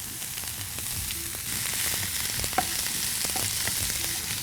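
Mixed vegetables of green beans, carrot, cauliflower, three-colour capsicum and cabbage being tossed in a hot pan with salt: a continuous close sizzle with scattered scraping and clattering hits, no voices.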